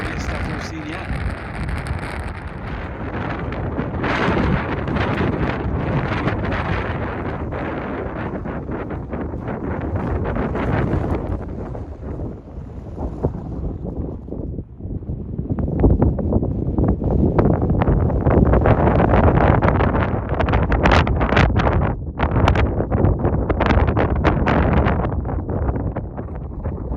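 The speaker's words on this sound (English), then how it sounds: "Okay, between wind gusts, my goodness." Strong wind buffets the microphone in sustained roaring gusts throughout, with a brief lull in the middle before blasting again, on a high mountain trail above a deep drop.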